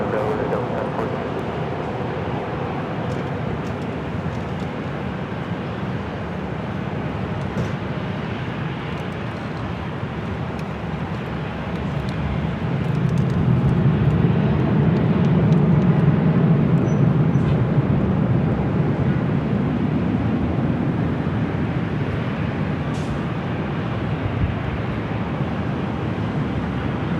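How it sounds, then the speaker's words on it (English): A Delta airliner taking off from runway 24 left at LAX, a broad rumbling roar that swells and holds steady, heard from a distance with people talking over it. "Takeoff, runway 24 left, and Del Rey, Delta 1014."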